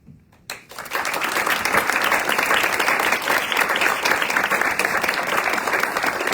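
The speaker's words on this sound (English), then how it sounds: "One more round of applause for our teachers." An awards ceremony audience applauds honored teachers, a loud, sustained wash of clapping that swells in after a brief pause and keeps going steadily without letup.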